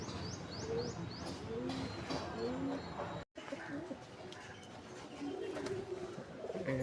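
Madraz and Malwai pigeons kept at home, including a breeding pair, give low rolling coos over and over at close range, with a steady room murmur and faint higher chirps early on.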